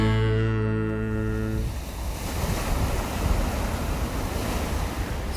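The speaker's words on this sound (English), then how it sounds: "the sparkling water rises, then crashes to the sea" Ocean waves break and wash in with a broad, continuous roar and hiss, strong wind buffeting the microphone, after a sustained musical tone fades out at the start.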